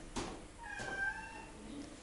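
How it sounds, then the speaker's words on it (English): A cat meows faintly a couple of times, short plaintive calls inside a carrier at a veterinary clinic, in a quiet room with no talking. "Yeah, the cat is inside."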